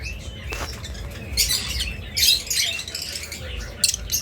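Blue opaline budgerigar pair chattering close by, quick chirps and squawky warbling notes in irregular bursts over a low background hum, with no talk.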